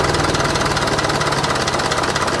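A 1917 International Model F truck engine idles slowly at roughly 500 RPM, giving a steady, close, low chugging throb with an even rhythmic knock throughout and no voices.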